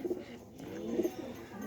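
A pigeon gives two soft, low coos about a second apart, faint and close in a quiet setting.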